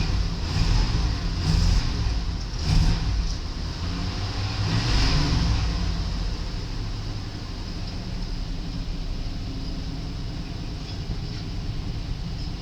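A 1993 Buick Roadmaster with its 5.7-litre V8 runs steadily at idle, a loud, low, continuous rumble with a couple of brief revs early on, no talking over it.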